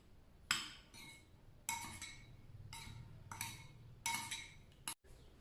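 A metal spoon clinks repeatedly against a bowl while stirring a teaspoon of salt into a mixture of oil for pizza dough, bright rhythmic taps in clusters, close and quiet, with no voices.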